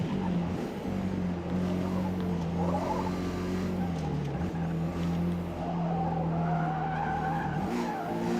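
Race car tyres squealing in a long continuous skid as the car slides through corners in Forza Motorsport, loud and sustained over a droning engine note, with no talk.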